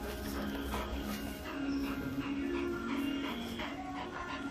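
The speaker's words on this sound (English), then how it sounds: "Good dog, Bess." Sheepdog at a farm auction demonstration whimpering and shuffling nearby, soft whines recurring over several seconds beneath steady outdoor background noise.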